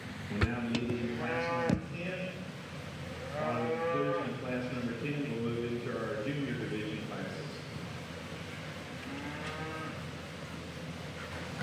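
Polled Hereford breeding heifers lowing at the San Antonio 2024 cattle show, several deep moos rising over a busy barn with voices and crowd noise around them.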